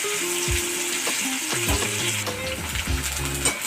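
Potato pieces fry in hot oil with nigella seeds in a wok, giving a steady close hiss and crackle throughout, with tonal background sounds running underneath and no talking.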